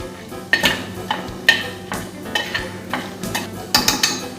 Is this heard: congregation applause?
no